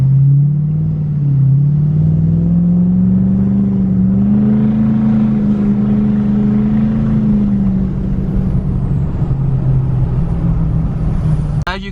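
Car engine fitted with a Stealth 67 V2 turbo revving and holding, a loud, steady droning rumble with a rising then settling tone as boost builds quickly, close and continuous.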